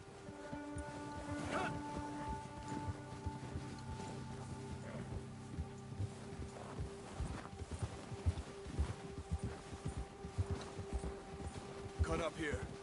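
Horse hooves clip-clop along a trail in a PS4 video game, a quiet, irregular patter running under steady in-game talk and background music.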